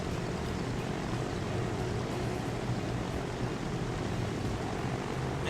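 A steady, faint, broadband aircraft engine drone holds without change throughout as a plane approaches an airport to land in the Transport Fever video game.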